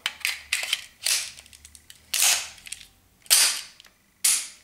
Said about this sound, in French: Et donc l'arme tire sans le chargeur.